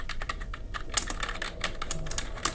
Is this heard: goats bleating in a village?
no